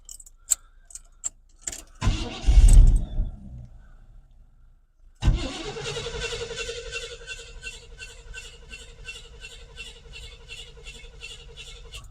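A 1985 Chevrolet C-10 short bed truck, revived with Seafoam and fresh gas, cranks briefly, falls quiet, then starts and settles into a steady idle with a ticking rhythm, heard close up.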